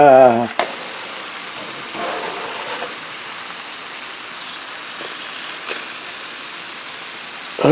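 Fish sizzles in hot oil in a Korean fry mix, a steady hissing crackle that holds evenly at moderate level, with a voice briefly heard at the start and end.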